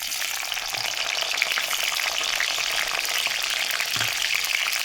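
Chopped tomato hitting hot oil with nigella seeds and green chilies, giving a loud, dense, continuous sizzle and crackle that fills the whole stretch at close range, with faint stirring.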